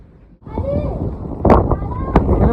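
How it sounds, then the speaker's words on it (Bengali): Strong wind gusts buffet the microphone at a hilltop Buddhist monastery near Nako in the high Himalaya, a low rumbling roar that swells in bursts beneath a person talking close by throughout. "প্রচন্ড হাওয়া এখানে"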